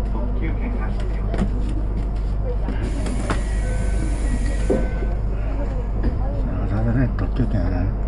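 Japanese limited express train running, a loud constant rumble and rattle heard from inside the car, with steady low-end roar and faint voices mixed in.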